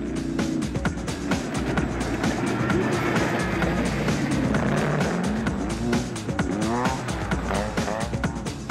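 Small rally cars fitted with motorcycle engines race around a tight stadium circuit at a 2012 rally stage, their high-revving engines buzzing loudly and continuously with passing roars and some tire noise.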